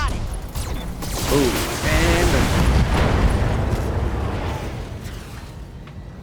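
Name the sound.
ultra autocannon fire and explosions in Battletech video game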